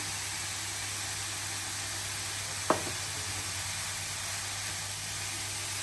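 Carrot fries in ghee for carrot halwa, giving a steady, even sizzle and hiss throughout, broken once by a single brief clink partway through.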